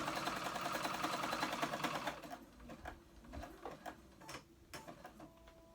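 Sewing machine stitching a ruched tee, a fast even run of stitches for about two seconds, then stopping and restarting in short, quieter bursts with clicks between, close and faint overall.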